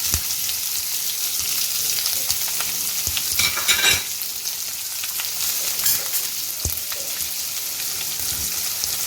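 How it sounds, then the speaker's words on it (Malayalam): Sliced onions and slit green chillies frying in a pan for a Kerala-style mushroom dish, giving a close, continuous crackling sizzle broken by scattered stirring scrapes, with no talk. "ഇനി നമുക്ക് ഉള്ളിയും പച്ചമുളകും ഇട്ട് കൊടുക്കാം."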